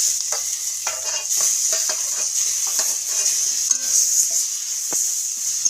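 Small shrimp cooking with chopped tomato and ground spice paste in a pan, heard as a bright steady sizzle broken by scraping and clinking strokes of a spoon being stirred through, close up and without speech.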